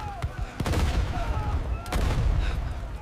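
Machine gun fire on a 1944 D-Day Omaha Beach battlefield in a war film, heard as rapid, loud bursts of shots over a dense, continuous roar of battle with sharp cracks punctuating it.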